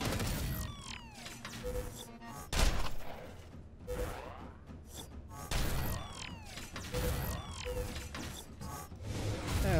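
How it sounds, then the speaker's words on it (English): Sci-fi gunfire from the StarCrawlers video game plays as repeated sharp blasts and zapping shots. A loud crack comes early, followed by several bursts of mechanical weapon effects over a busy game soundscape. "Let's just start shooting some people."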